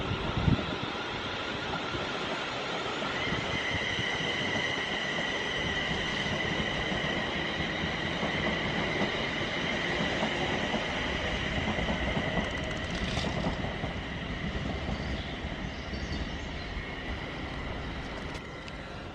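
Passenger train pulling into Bedford station, a steady loud rumble of wheels on rail with sustained high squealing tones as it slows, continuous for the whole stretch.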